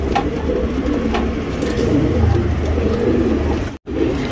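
Tournament racing pigeons coo steadily in a loft, their soft overlapping calls forming a continuous, fairly loud murmur that barely pauses with one brief drop near the end.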